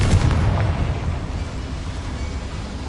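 A Confringo blasting spell explosion from the Hogwarts Legacy video game, a loud deep boom with a rumbling low-end tail that fades slowly over a few seconds, with no speech over it.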